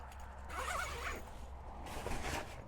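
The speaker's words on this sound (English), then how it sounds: "you can also unzip the midgie mesh" The midge mesh window on a rooftop tent fitted to a Range Rover L322 is unzipped in two quick, close zipper pulls, with quiet background around them.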